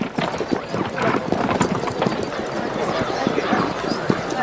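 Horses at the Naadam festival near Ulaanbaatar, Mongolia, with steady hoof clip-clop and an occasional whinny in a busy outdoor crowd, voices talking throughout.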